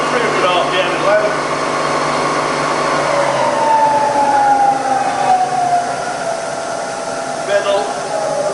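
A Bridgeport milling machine spindle runs at 300 RPM in low range, giving a steady, loud mechanical whine and hum with a slowly falling tone, heard close.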